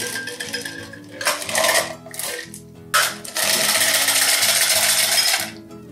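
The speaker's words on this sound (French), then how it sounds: "Donc on vient, encore une fois, double filtrer le mélange." A passion fruit margarita, spiked with very hot chili, is double strained through a fine mesh, giving bursts of rattling and scraping as the strainer is tapped, then a long steady gritty stretch before it stops abruptly.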